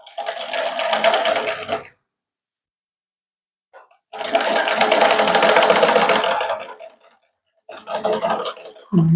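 A sewing machine stitching a blouse runs loud and close in three bursts, a whirring mechanical rattle separated by two silent pauses, the last burst cut short.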